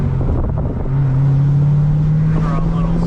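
A C6 ZR1 Corvette with a modified exhaust drives in second gear, its engine droning steadily from inside the cabin with a low rising tone and some wind noise, voices faintly beneath.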